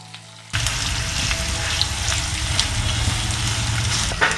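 Onion dropped into hot oil with whole spices for butter chicken, bursting into a loud, steady sizzle after a quiet start, with occasional stirring.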